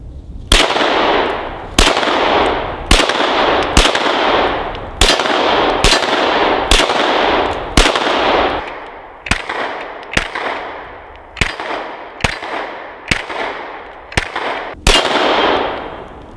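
Loud close shots from a Smith & Wesson M&P Pro Series CORE pistol, around fourteen sharp cracks fired at a steady pace, each with a short ringing decay.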